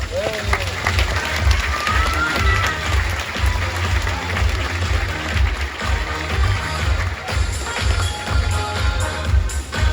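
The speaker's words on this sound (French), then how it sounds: "Et on peut les applaudir encore bien fort." A zoo show audience claps loudly and steadily in an even, dense rain of applause, with a few faint calls and some talk mixed in beneath it.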